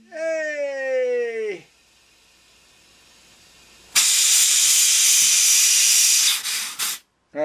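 Air hisses loudly and steadily out of a motorcycle tire mounted on a custom wheel, a bright sustained rush lasting a few seconds that follows a rising whine and then cuts off abruptly.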